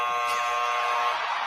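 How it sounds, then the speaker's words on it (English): Lie detector test buzzer sounding one steady, harsh electronic drone that holds for about a second and then cuts off, loud and alone. "So that's why there's the buzzer at the end, obviously. The lie detector test."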